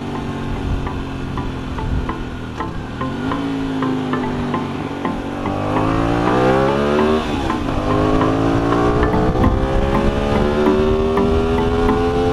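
A motorcycle engine revs and drops as the rider downshifts and engine-brakes, pitch sweeping up and down through gear changes, loud and close, with the drone growing stronger toward the end.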